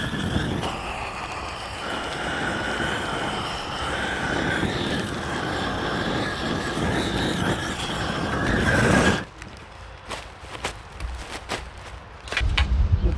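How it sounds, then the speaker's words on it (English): A propane flame weeder wand burns holes into woven ground cover, giving a steady loud roaring hiss for several seconds that cuts off abruptly, leaving quieter rustling and handling noises. "For burning the holes into the woven ground cover, I'm going to use a flame weeder"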